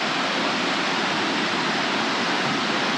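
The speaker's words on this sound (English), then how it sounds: "there's a rattlesnake creek over there making a little waterfall" A small creek spills over a little waterfall in a rocky canyon along the Main Salmon River, giving a steady, broadband rushing splash that holds even and fairly close for the whole stretch, with no voices.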